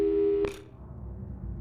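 A telephone busy-signal tone sounds in a video game, a loud steady beep that cuts off abruptly, followed by a short noisy click and quieter background hum.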